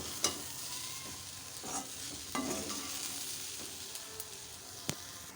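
Snake gourd and lentils are stirred in a hot frying pan with a steady soft sizzle, broken by several sharp spoon scrapes and clacks against the pan.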